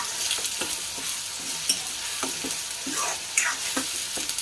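Ground onion paste frying and sizzling in a pan while a spoon stirs it, a constant loud hiss with repeated scraping strokes roughly every half second, up close and without speech.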